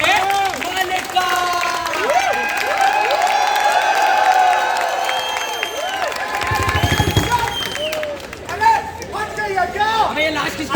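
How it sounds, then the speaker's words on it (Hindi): An audience at an outdoor street play applauds and cheers to welcome a performer, with clapping and crowd chatter running beneath loud, continuous voices. "जोरदार तालियों के साथ स्वागत करिए हमारे मालिक का।"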